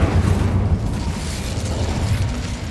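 In Hogwarts Legacy an Incendio spell bursts into a loud, crackling roar of flame that stays thick and close for the whole short moment.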